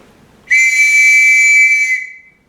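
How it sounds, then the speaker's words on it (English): A sentry blows a single long, steady, shrill whistle blast lasting about a second and a half, loud and close, with no talking. "Blow your whistle, man, for God's sakes."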